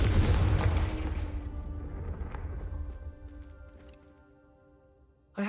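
A Confringo fire spell explodes in the video game Hogwarts Legacy: a loud, sudden blast at the start that rolls off into a fading rumble over several seconds, with a short sharp noise right at the end.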